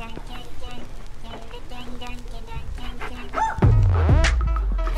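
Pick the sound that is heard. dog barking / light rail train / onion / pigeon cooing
dog barking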